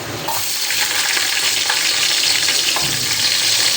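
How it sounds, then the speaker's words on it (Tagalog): Ginger sautés in a hot pan for a fish sinigang, a loud, close, steady sizzle and crackle that runs unbroken with no voices over it. "magigisa na po tayo ng luya"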